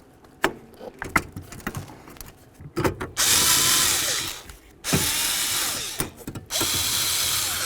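Power drill driving bolts back in during a multi-function switch replacement on a 1998-2011 Ford Ranger, with clicks and handling noises, then two sustained close whirring runs of the drill.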